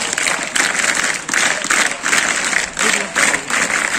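A crowd claps at a scout and guide rally, rhythmic bursts of group clapping in regular pulses, loud and close, with a voice faintly present underneath.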